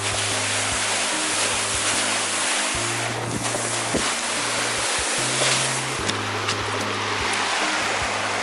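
Rushing water pours on Lemah Mountain, a loud, continuous broadband roar with wind buffeting the microphone and a low tonal hum running underneath.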